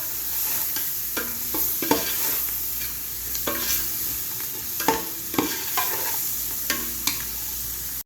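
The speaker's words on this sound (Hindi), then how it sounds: "अच्छी तरीके से मिक्स करेंगे इसको" Mutton paya masala frying in a pan as tomato is mixed in, with repeated spatula scrapes and clinks over a continuous bright sizzle, close and steady throughout with no talking.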